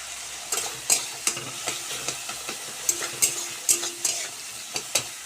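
Paneer masala stirred and sautéed in a pan, a spatula scraping in uneven strokes over a steady close sizzle, with sharp clinks on the metal now and then.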